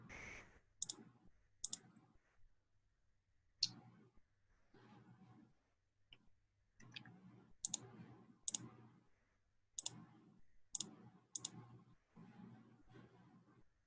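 Computer mouse clicks while working with selection tools in image-editing software: faint, sharp single and double clicks come in small irregular clusters across the stretch, near and quiet, with soft low handling noise between them.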